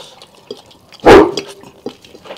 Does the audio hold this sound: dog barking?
yes